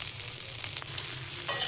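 Spiced gobi fried rice is tossed and mixed in a hot pan, making a short stretch of sizzling with stirring scrapes, and a louder hiss comes right at the end.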